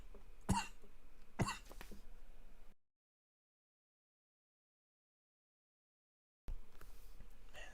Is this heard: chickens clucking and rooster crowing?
no